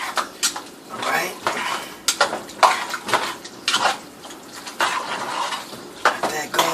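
A metal spoon stirs baked ziti pasta in a pan, giving repeated clinks and scrapes against the cookware at close range in an uneven rhythm, with faint clatter and a little background noise.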